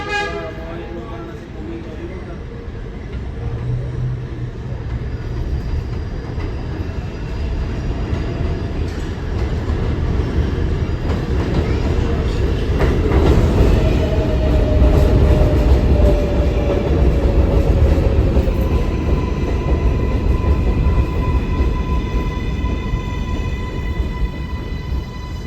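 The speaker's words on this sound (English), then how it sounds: "There is a train approaching the Manhattan-bound track." An R188 7 subway train pulls into Court Square station on the Flushing Line, a steady rising rumble of wheels and motors with squealing tonal whines and a brief horn-like tone, loud and close throughout, with platform announcements over it.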